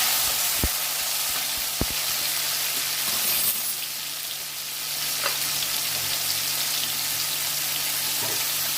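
Karonda fruits cooking in a pan with salt for pickle, an even sizzle and hiss with a couple of sharp utensil knocks near the start and soft stirring later.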